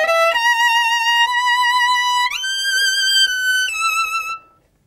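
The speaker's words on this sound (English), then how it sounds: "which for this is actually coming from a little clip from Saint-Saëns Violin Concerto" A solo violin plays a single measure from Saint-Saëns's Violin Concerto, with clear sustained notes that shift upward partway through a bright, leaping phrase. It is close and loud, then fades out at the end.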